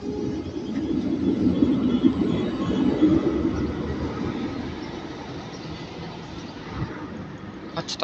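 A tram rolls past on its rails, a loud close rumble with rising and falling wheel noise that fades toward the end, while a voice talks faintly over it.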